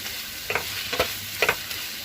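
Tomato with mint and coriander leaves and a little salt being sautéed in a pan, a steady close sizzle broken by three or four scraping stirs of a spatula.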